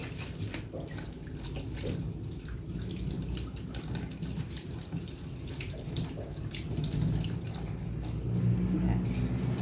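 Chili peppers are rinsed under a running kitchen tap, with water splashing steadily and continuously and rising slightly toward the end, alongside some faint background noise.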